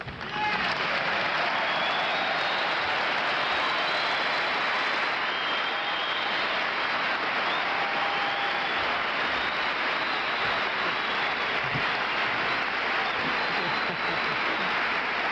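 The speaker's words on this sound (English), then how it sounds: "welcome him to this stage with a rousing standing cheer for his purposes" A large commencement crowd at Notre Dame gives a rousing standing ovation, continuous dense applause and cheering that holds steady and loud throughout, with scattered shouts and whistles rising above the roar.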